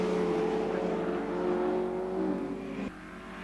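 A classic sports car racing round the Anglesey circuit, its engine a steady loud drone with a sustained tone that shifts slightly as it passes, dropping off near the end.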